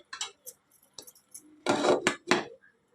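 A metal lid goes onto a pot of gongura and prawn curry, making a handful of sharp clinks and light clatters, then a louder scraping clank and a final knock close by.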